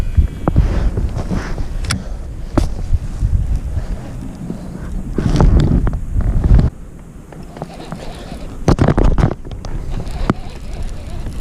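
Steady wind gusts buffet an open microphone on a reservoir while kayak fishing, a constant low rumble with louder swells, broken by a few knocks and clatters from the boat.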